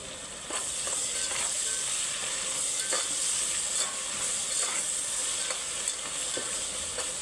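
Curry leaves sizzling in hot oil for Hyderabadi bagara rice, a steady loud frying hiss with a few soft stirring scrapes and crackles, no voices.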